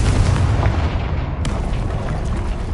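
A Confringo spell from Hogwarts Legacy detonates with a loud, booming explosion. A sharp crack marks the blast, and a heavy rumbling roar carries on steadily afterward.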